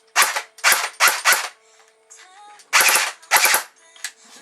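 An airsoft SIG 556 Shorty rifle fires without a silencer: about seven sharp, close cracks in two quick clusters, with a faint mechanical whir in between.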